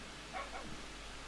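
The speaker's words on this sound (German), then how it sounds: "Oh, was war denn das? Das ist ein Hund." A dog in the Minecraft video game gives a couple of quick, faint yips close together over a low steady background hum, with no talking.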